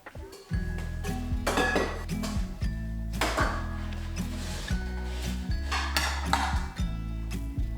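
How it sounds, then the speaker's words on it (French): Dried dishes, pots and cutlery being put away from a drying rack in a home kitchen, with steady clinks, clatters and rubbing knocks of crockery and metal close by, continuous for several seconds without talk. "Et puis je continue avec la traditionnelle routine du rangement de la vaisselle séchée"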